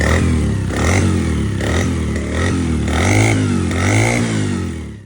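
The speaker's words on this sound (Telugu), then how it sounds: "ఒకసారి వినండి ఇంజిన్ బీట్ ఎలా ఉందో" A motorcycle engine, just kick-started, idles loudly nearby with a steady thumping beat and a few light revs, no talking.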